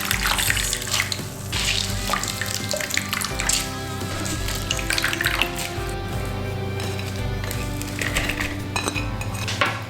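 Grated green apple is strained in a kitchen as excess water drains, with loud running, splashing water and clinks of a metal strainer and dishes, continuous and close with no talk.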